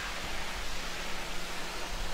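Pressure washer spraying a tractor's weight in Farming Simulator 2015, a steady, even hiss of water that runs unbroken and fairly quiet, with no talking over it.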